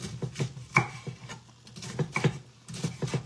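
A knife cuts fresh garden sigarilyas (winged beans) diagonally on a board, a close series of soft, crisp chops and taps in short irregular bursts with brief gaps.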